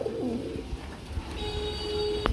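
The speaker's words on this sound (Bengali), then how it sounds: "আমরা এখানে তিন তিন পিস কবুতর দেখতে পাচ্ছি" A pigeon gives a short low coo at the start, followed by quiet background noise and a faint thin whistle-like tone.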